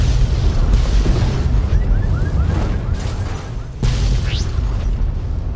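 A laser detonator blowing up in Fallout: New Vegas, heard as a loud booming blast with crackling debris, followed by a second sharp burst partway through.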